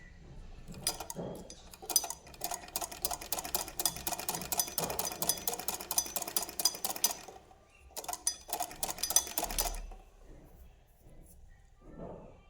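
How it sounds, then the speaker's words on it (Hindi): A sewing machine stitching a sleeve runs in rapid, even bursts of ticking needle strokes, a long run then a shorter one after a pause, close and clear with no talk. "दोनों कपड़े मिला लिए, अब इसके बाद सिलाई करेंगे वापस।"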